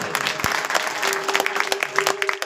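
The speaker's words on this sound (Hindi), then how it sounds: "जोरदार तालियों से" Brief burst of crowd applause at a devotional Bhagavat Katha gathering, steady and moderately loud with a faint sustained tone beneath.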